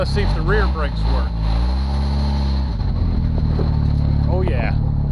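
An old Jeep, recently revived from a $499 purchase, idles and drives with a rough, rumbling engine note during a rear brake test, as someone talks from inside the cabin.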